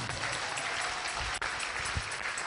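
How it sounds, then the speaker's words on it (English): A church congregation claps steadily together at a Sunday service, a dense wash of applause filling the space without pause. "If you agree with me, can you clap for Jesus?"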